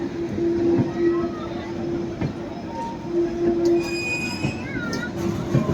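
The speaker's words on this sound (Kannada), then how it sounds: "ಇದು ಕಾರವಾರ ಎಕ್ಸ್ಪ್ರೆಸ್, ಯಶವಂತಪುರ, ಕಾರವಾರ, ಮಂಗಳೂರು ಅಲ್ಲಿಗೆ ಹೋಗೋ ಟ್ರೈನು ಓಡ್ತಾ ಇದೆ" The Karwar Express rolls past close by in the hills near Sakleshpur, a continuous rumble with a sustained wheel squeal ringing over it for the whole stretch.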